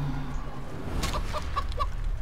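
A chicken in the video game Divinity: Original Sin 2 gives a short burst of four or five sharp clucks, clear and close over quiet game ambience.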